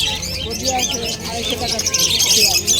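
Caged budgerigars and cockatiels chirp and tweet together at a busy Kolkata bird market, a dense bright chatter heard close, with people talking over it.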